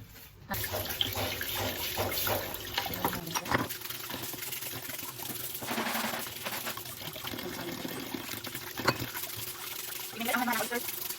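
Tap water runs into a sink as fresh oysters and crab are rinsed, a steady splashing wash with clatter of shellfish, while a person talks over it.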